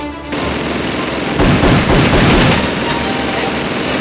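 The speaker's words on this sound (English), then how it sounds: "There he is again, open fire again!" Dense, sustained automatic gunfire from the Operation: Black Sun video game, a loud continuous rattle of rapid shots that swells midway and keeps going without a break.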